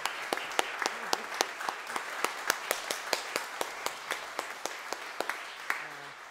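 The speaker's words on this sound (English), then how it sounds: "Lori, who might be in the back, and Dimitri stand up for well-deserved applause." Audience applause at a church concert honouring the accompanists, crisp individual claps in a loose rhythm from a small crowd in a reverberant room, steady throughout.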